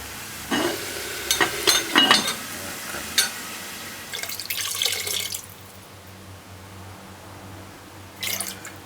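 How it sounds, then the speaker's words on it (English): Water splashes and pours into a pressure cooker pot while cooking oxtail and broad beans, in a few short bursts with a longer pour near the middle, then quiet with a low stove hum. "we're going to add 4 cups of water"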